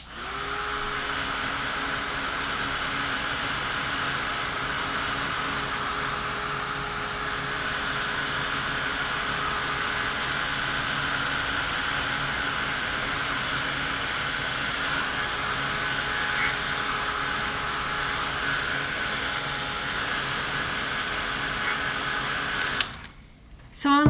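A heat tool blows steadily while drying distress ink on paper, a constant loud whirring hum that holds for over twenty seconds before cutting off abruptly near the end.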